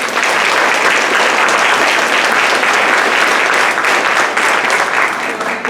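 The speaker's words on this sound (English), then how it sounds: "Let's give them a big round of applause." Loud, dense applause from a school board meeting audience honoring Mr. Riggio's class for their bulletin board, a continuous wash of clapping held steadily throughout.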